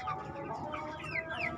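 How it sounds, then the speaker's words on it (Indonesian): Chickens in a growing pen cluck softly at a distance, with a few scattered bird calls over low farmyard background noise. "ayam-ayam ini sebenarnya yang dalam masa pembesaran"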